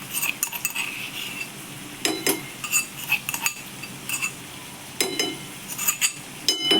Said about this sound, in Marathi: हे आपल्याला व्यवस्थित असं हलवून घ्यायचं आहे हे बघा हे असं हलवून घ्यायचं